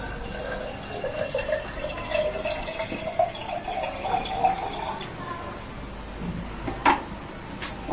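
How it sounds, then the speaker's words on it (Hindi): Water runs into a glass bottle with a steady gurgling fill that climbs in pitch as the bottle fills, and a few clinks are heard near the end. "और ये देखिए मैं इसको पानी से भर रहा हूं।"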